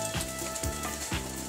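Wentelteefjes, Dutch French toast, fry in a pan with a close crackling sizzle that swells in three rhythmic pulses, as if stirred or turned.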